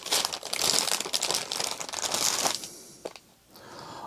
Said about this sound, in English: Keeps ripping the bag.